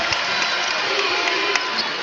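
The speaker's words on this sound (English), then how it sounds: "The crowd exhorting the #1 Bears." Dense roar of a college basketball arena crowd cheering and exhorting the top-ranked Bears, a steady wash of voices with occasional louder swells throughout.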